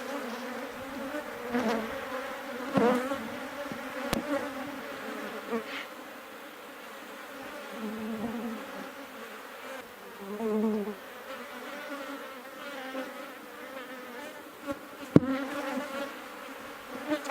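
Honey bees buzz around an open hive frame laden with nectar, pollen and some honey, a close, wavering drone with individual insects passing near, plus a few sharp clicks and knocks.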